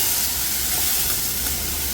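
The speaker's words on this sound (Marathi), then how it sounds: "आपल्याला अजून थोडासा भाजून घ्यायचा आहे आणि थोडासा क्रश सुद्धा करून घ्यायचा आहे" Pavta beans roasting in a kadhai give off a steady, close broadband sizzle with faint stirring scrapes, continuous and even throughout with no voices.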